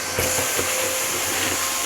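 Vacuum cleaner running steadily at close range, sucking up sand and cobwebs on a terrace, a continuous whooshing hum with no speech.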